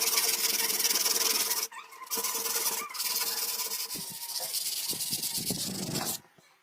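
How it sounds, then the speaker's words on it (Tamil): A sandpaper-wrapped block rubs hardened metal paste on a rusted refrigerator door, giving a loud, continuous rasping scrub in long strokes broken by short pauses. "சாஃப்டான உப்புத்தால கட்டையில சுத்தி தேய்ச்சிடலாம்"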